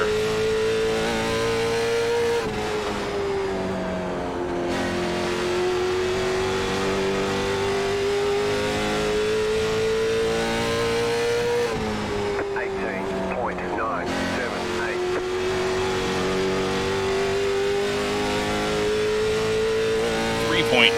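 A race car engine at North Wilkesboro in the sim racing game iRacing drones steadily and loudly throughout, its pitch climbing on straights and dipping into corners twice, with someone talking over it.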